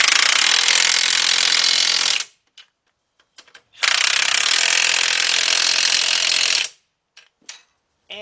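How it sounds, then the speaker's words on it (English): Cordless impact wrench with a 21 mm deep half-inch-drive socket tightening front strut bolts on a 2007 Chevy Impala: two long, loud hammering bursts, each about two seconds, separated by a pause with a few small clicks. "Get your 21 millimeter deep, 1/2 inch drive, your cordless impact, and tighten those bolts up."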